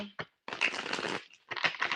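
Tarot cards shuffled by hand in a short series of brisk riffling bursts with a brief pause between them, close and fairly clear.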